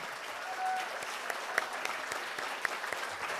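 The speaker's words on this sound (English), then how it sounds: "let's give a really rousing applause for our candidates" An audience at a 2018 Glendale Woman's Club candidate forum applauds steadily for the candidates, a dense, moderately quiet wash of clapping from a mid-sized crowd in a hall with a few sharper claps standing out.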